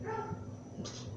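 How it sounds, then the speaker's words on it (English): A neighbour's dog barks faintly from a distance, a couple of soft, muffled woofs over a steady background hum. "Sorry for the barking."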